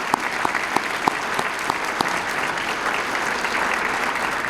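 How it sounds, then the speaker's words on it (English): Audience applause at a 2021 State of the City address, a steady wash of clapping from a crowd with sharper individual claps standing out near the front, sustained evenly throughout. "Could you please give them a round of applause?"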